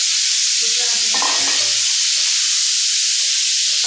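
Steady loud sizzling of chopped onion, garlic and green chilli frying in a pan, with brief scraping of stirring partway through.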